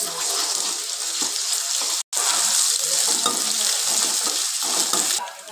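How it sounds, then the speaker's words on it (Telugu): Cumin seeds, chopped onion and green chillies hit hot oil in a pan, giving a loud, steady, hissing sizzle that runs almost unbroken with a brief cut partway through. "ఆయిల్ వేసుకుందామండి. కొంచెం జీలకర్ర, ఆనియన్, పచ్చిమిర్చి కలుపుకుందామండి."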